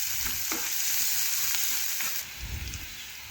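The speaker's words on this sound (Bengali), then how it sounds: "পেঁয়াজ দিয়ে দিলাম। পেঁয়াজ একটু আমি ভেজে নিচ্ছি।" Chopped onion fries in hot oil with a dense, continuous sizzle and faint crackles, steady and close throughout, the hiss easing slightly near the end, with no talking.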